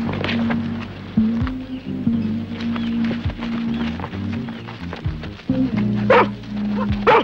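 A dog barks several times in a lively, close burst of yips and woofs amid an outdoor scene from a children's adventure drama on an island, with some bustle and movement around it.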